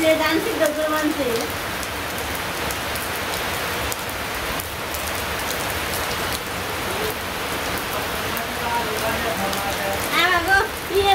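Steady rain falls throughout, a dense, even hiss of drops striking surfaces close by, continuous and fairly loud with no voices or thunder.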